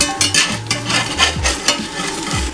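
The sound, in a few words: flipping a vegan omelet in a non-stick pan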